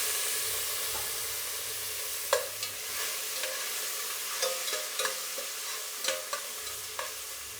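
Chopped onion and tomato sizzle steadily in hot oil for sambar, with mustard seeds, cumin and fenugreek already in the pan. Occasional spatula scrapes and knocks stand out over the constant close frying hiss, with no voice.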